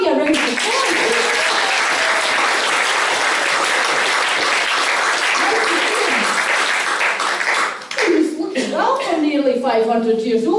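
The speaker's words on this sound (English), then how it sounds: "Give Habby a round of applause" An audience at a village parade in Kilbarchan gives a performer a long, steady round of applause, dense clapping filling the space, with a voice speaking over the end.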